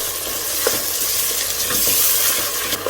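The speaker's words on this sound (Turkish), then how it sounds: "Kırmızı biber koyalım. Ve biraz kavuralım." Red pepper is sautéed in a pan, giving a loud, bright, close sizzle with frequent scraping stirs and light utensil knocks throughout, and no voices.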